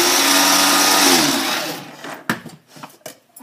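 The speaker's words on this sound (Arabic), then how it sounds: "هنطحن بقى المكونات بتاعتنا" A blender grinds face mask ingredients, including honey, with a loud, steady whirring roar that runs for nearly two seconds and then cuts off, followed by a few faint clatters.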